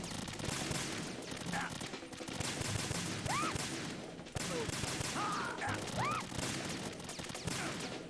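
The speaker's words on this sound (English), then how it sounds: "get the USP and start shooting" USP pistol fired in the video game Metal Gear Solid 2, heard as quiet bursts of shots spread across several seconds, with faint game sounds and some talk mixed in.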